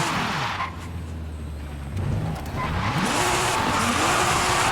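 2023 Nissan Z engine in the Forza video game while sliding: revving engine with pitch rising and falling through gear changes, over continuous loud tire squeal and skidding noise, no talk.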